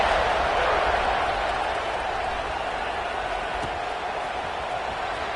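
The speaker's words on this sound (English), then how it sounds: "this crowd is buzzing after that last score" A football stadium crowd buzzes after a score, a broad, steady roar of many distant voices and cheering that holds evenly for several seconds.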